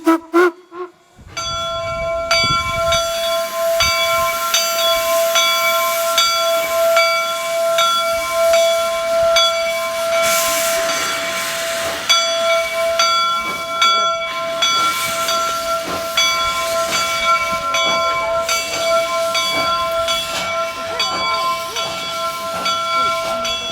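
Steam locomotive 119 departs at a winter steam festival, sounding a loud, sustained steam whistle over heavy hissing steam and rumbling chuffs, the whistle blowing for long stretches close by.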